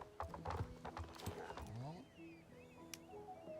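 Video game horse hooves clip-clopping in a quick rhythm, followed by a whinnying neigh, heard close and fairly quiet.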